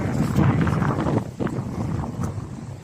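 Cold, strong wind roaring across the microphone in continuous close gusts, loud and unbroken, with slight dips and surges in force.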